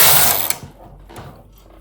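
Domestic knitting machine carriage knitting a row in tuck stitch with fine sewing thread: a loud mechanical sliding rattle at first, then a quieter clicking fade as the pass ends.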